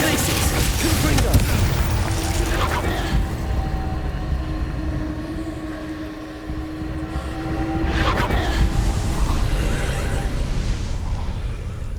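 Confringo explosive spell blasts in Hogwarts Legacy, loud booming bursts at the start and again near the end, with a rumbling roar and a sustained tonal hum between them, no talking.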